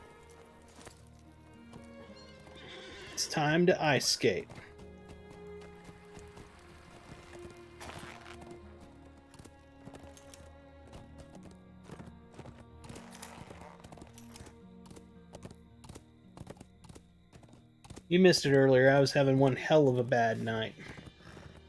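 Horse riding in the video game Lord of the Rings Online, with steady clip-clop hoofbeats and two sharp, loud whinnies, one early and one near the end, while someone talks over much of it.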